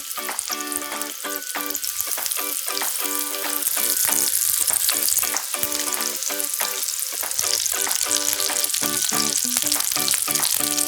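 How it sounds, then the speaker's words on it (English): Lamb meatballs fry loudly in a flavour-coated pan that still holds onion and garlic, a steady dense sizzle punctuated by frequent sharp crackles and pops throughout, with no voices. "The meatballs are all in, they're starting to cook."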